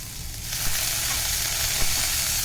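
Chopped vegetables sizzle and fry in a hot pan for vegetable noodles, a steady dense hiss with a few soft stirring clicks, close and continuous without talk.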